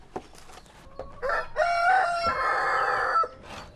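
A rooster crows a full cock-a-doodle-doo close by in a Dutch village yard, with a few short hen clucks before it and a faint trailing call after, no talk over it.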